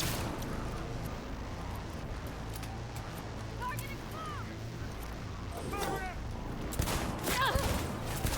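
Rapid bursts of gunfire from a stealth shooter video game, continuous and dense under a steady rumble, with shouted voices breaking in and louder shots near the end.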